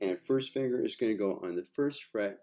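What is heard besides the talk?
None of the usual background noises is heard.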